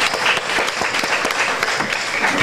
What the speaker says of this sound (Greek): ένα ζεστό χειροκρότημα για εκείνο.